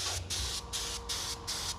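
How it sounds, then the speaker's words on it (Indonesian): A spray gun applying wood toner during melamine finishing, evening out the colour of pale wood: loud, close hissing bursts in four rhythmic passes, each separated by brief pauses, with no voices. "kita semprot toner ya"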